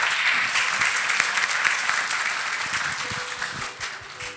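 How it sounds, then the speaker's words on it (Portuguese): Church congregation applauding during a service, many hands clapping in a dense steady wash that fades slightly toward the end, with a faint voice or tone underneath. "Você pode aplaudir a Jesus."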